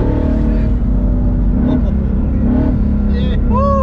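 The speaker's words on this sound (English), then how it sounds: "now it feels like it's spooling faster" A turbocharged 2008 Ford Mustang GT engine rumbles loudly and accelerates, a heavy low drone with a turbo whistle rising near the end, while people talk over it.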